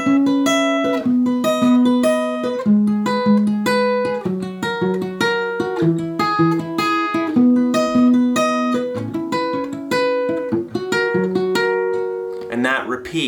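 Guitar playing the verse and chorus chords of a song, clear and close, with rhythmic strummed and plucked notes moving through a repeating progression at steady volume.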